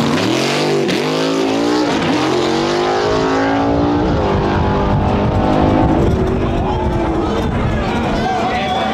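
A Mustang drag racing car launches hard off the line. Its engine roars loudly and continuously, rising and falling in pitch, while a narrator talks over it.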